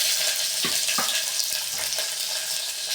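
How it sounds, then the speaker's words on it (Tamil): Chopped onions frying in hot oil with mustard and fennel seeds, a steady close sizzle with soft crackles throughout. "இப்போ நம்ம கட் பண்ணின வெங்காயம் போட்டாச்சு."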